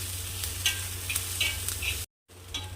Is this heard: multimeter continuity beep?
no